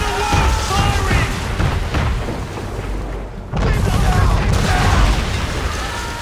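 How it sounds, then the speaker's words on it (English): Heavy cannon fire from a man-of-war warship in Assassin's Creed III, loud booming blasts rolling over a dense battle din, with a brief lull before another roaring volley. "Man of war firing!"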